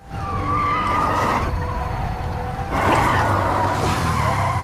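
A car's tires skid and squeal loudly in a near collision during a zombie film, a sustained screech that eases briefly and then surges again close by, with a rumbling engine underneath.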